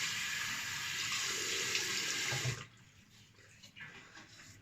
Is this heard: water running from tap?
yes